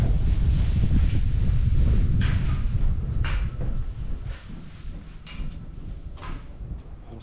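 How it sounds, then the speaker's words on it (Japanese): Wind gusting across the roof of a building under construction for an eel restaurant's support facility, a broad rumbling buffet on the microphone that is strongest at first and then eases, with a few faint knocks and no talking. "風が気持ちいい"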